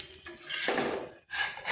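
A spatula scrapes and lifts the edges of a semolina and yogurt snack cooking in an oiled pan, a close, quiet pair of metallic scrapes and clinks with no talking.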